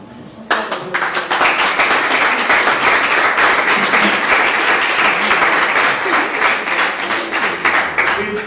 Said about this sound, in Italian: per questo l'applauso.